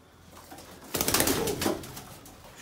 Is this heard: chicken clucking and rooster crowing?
no